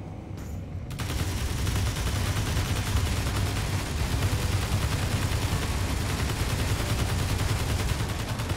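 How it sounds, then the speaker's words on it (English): Sustained automatic gunfire in the space game Space Engineers, a rapid continuous stream of shots that kicks in after a brief quiet moment and stays loud and dense to the end, with no talking. "now that is a lot of gunfire"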